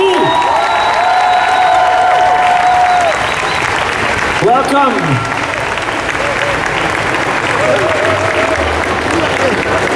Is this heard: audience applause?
yes